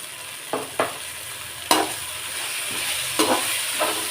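Mango rice being stirred in a pan with grated coconut, turmeric and salt, giving a few scraping stirs against a soft steady sizzle, close and moderately loud.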